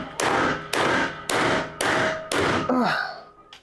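Five heavy, evenly spaced knocks as a piece is hammered into place during a warehouse renovation, each a loud close thud with a short decaying tail, followed by a brief creak.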